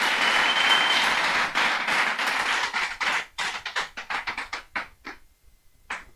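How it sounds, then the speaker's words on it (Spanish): Church congregation applauding in praise during a Spanish-language sermon, a dense sustained burst of clapping that thins into scattered individual claps and dies away. "un aplauso al Señor."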